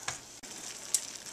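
Caramel icing of butter and brown sugar boiling hard in a pan, a steady soft sizzle and bubbling hiss with a few small pops, close and fairly quiet.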